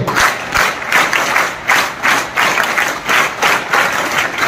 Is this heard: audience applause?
yes